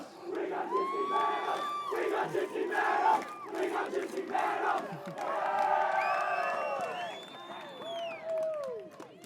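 A crowd at a 2015 Gridiron Queensland Colts championship presentation cheers and shouts, with whistles and some clapping, in a lively, sustained roar heard from a moderate distance.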